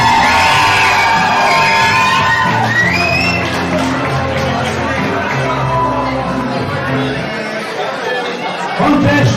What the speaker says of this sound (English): Crowd chanting JMP.